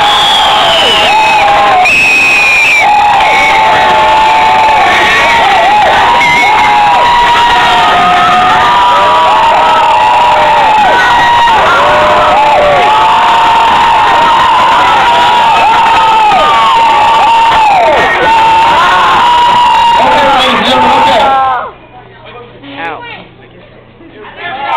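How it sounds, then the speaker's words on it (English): A studio audience cheers and screams for a favorite artist on a game show. The roar is loud, with piercing shouts and whoops that hold steady for about twenty seconds and then cut off abruptly. "you're going to get 10 seconds to cheer for your favorite artist"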